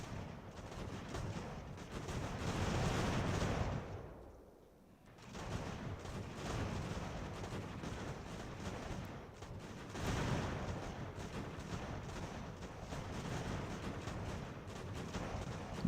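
Musket volleys crackle in massed, rolling bursts of gunfire during a battle in Ultimate General: American Revolution. Dense firing continues throughout, breaking off in one brief lull before resuming.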